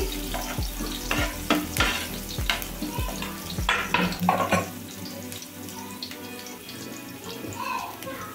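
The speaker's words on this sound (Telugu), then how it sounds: "చిన్న చిన్న ముక్కలుగా కట్ చేసుకుని ఎల్లిపాయ ముక్కలండి. కొంచెం లైట్గా వేగనివ్వాలి." Small onion pieces frying lightly in a pan over a medium flame, with a steady sizzle under repeated scraping stirs that knock rhythmically for the first half before the sizzling continues more quietly alone.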